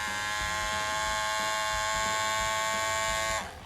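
A cordless Andis Master hair clipper runs at close range with a loud, steady electric buzz and whine that holds for about three seconds before switching off.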